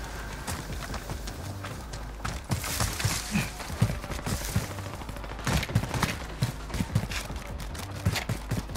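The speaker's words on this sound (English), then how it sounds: "There's shots going off right here." Gunfire rings out in a battle royale video game, a run of sharp, irregular shots and bursts over a steady rumbling backdrop, fairly close and spread across several seconds.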